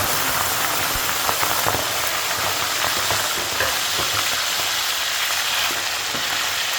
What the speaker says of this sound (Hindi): ऑयल हमारा अच्छी तरीके से गर्म हो चुका है और अब हम इसमें मटन ऐड करेंगे